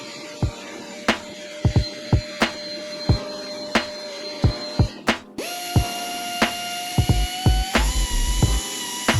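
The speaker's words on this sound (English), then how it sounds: "Pretty much got all of the rust areas ground down." A power tool whines against the rust spots on a Nissan S15 Silvia body, with repeated sharp knocks and bursts, then the motor spins up into a steady high whine broken by rapid clattering contacts, close and loud.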